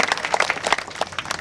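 An audience claps at an outdoor event in a short burst of rapid, scattered hand claps, moderately loud and heard on their own without talk.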